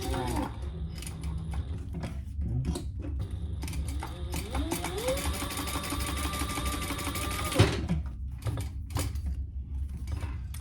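A sewing machine stitches a bag strap with a fast, steady mechanical whirr and clatter that runs for about eight seconds and then stops, followed by a few soft handling clicks.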